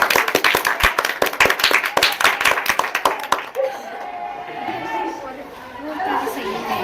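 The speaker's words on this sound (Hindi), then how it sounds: "जोरदार तालियों से स्वागत करें।" An audience at a school teaching-aid fair claps in a loud burst of rapid, uneven hand claps for a few seconds, then the applause fades into murmuring chatter and voices.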